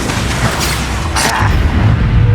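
Incendio fire spell cast in Hogwarts Legacy, a loud whooshing burst of flame swelling and fading over about two seconds with a rumbling low tail, close and alone.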